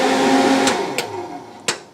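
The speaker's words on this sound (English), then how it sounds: "This is the range hood I talked about." Range hood fan in a 2024 Keystone Bullet 287RLS travel trailer runs with a steady broadband whoosh and low hum, close and fairly loud, with a few brief clicks and knocks near the end.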